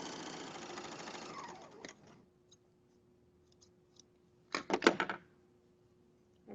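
A sewing machine stitches pajama pieces together in a steady whirring run that stops. A few quiet clicks follow in near silence, then a short second burst of stitching.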